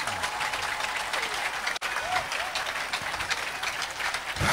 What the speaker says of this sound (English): I said, ask him, clap for Jesus.